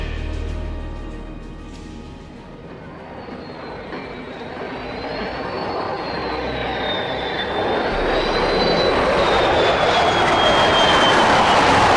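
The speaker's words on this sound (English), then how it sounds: "The aircraft before you represents one of the most iconic symbols of American air power, the F-14E Super Tomcat." An F-14E Super Tomcat jet flying at a Cleveland National Airshow in Roblox, a loud continuous engine roar with a whining high tone that swells louder toward the end.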